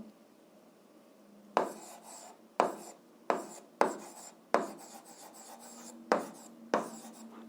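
Pen or chalk writing a formula by hand on a surface during an algebra lesson, a series of short scratchy strokes in separate bursts after a quiet start, close and clear with no speech.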